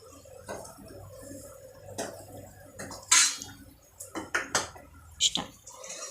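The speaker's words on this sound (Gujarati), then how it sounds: "ધીરે ધીરે ધીરે મિક્સ કરશું આપણે એને" A spoon slowly stirring whole-onion curry in a metal pan, with scattered scrapes and light clinks against the pan growing sharper toward the end, close by, while a voice talks faintly underneath.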